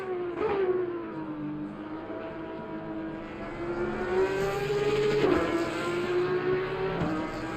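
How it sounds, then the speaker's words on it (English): Race car engines in the Assetto Corsa Competizione racing game at the Nürburgring GP circuit, a near car's engine revving and shifting up and down in pitch, with other cars passing in the background. "Now that, chat, is the sound of some awesome engines"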